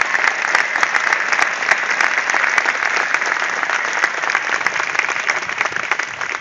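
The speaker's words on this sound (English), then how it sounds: "You deserve an amazing round of applause for what you've done" A college commencement audience applauds in a dense, sustained round of clapping that stays loud and even from start to finish.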